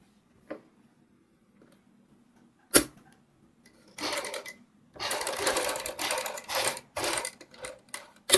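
A sewing machine stitches along the edge of a kurti neck piece in several short bursts of running needle clatter, separated by brief pauses and a sharp click, close and alone with no talk.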